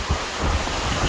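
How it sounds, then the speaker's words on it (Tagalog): Wind on a mountain buffets the microphone in a brief, steady rumbling roar lasting about a second. "Mahangin nga lang."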